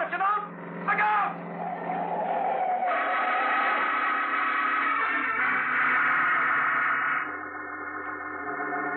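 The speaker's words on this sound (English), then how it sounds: "Hey, mister, look out for that car." In an old-time radio drama, a car roars in with a rising engine, screeching tires and blaring horns, loud and close, mixed with a few shouted voices at the start.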